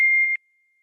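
A single short electronic phone notification tone, a clean steady beep with a slight double pulse at its end, heard alone before silence.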